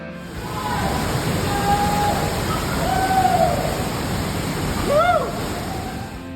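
Zapata Falls in Colorado roaring steadily nearby, a loud continuous wash of rushing water with a few faint voices and whoops rising over it.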